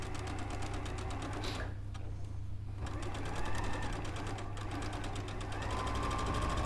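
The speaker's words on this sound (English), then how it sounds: "So all I'm doing now is just turning this around and sewing along the opposite side." A sewing machine runs steadily, stitching down the opposite side of a piece of fabric in a continuous close whirr with a slight dip partway through.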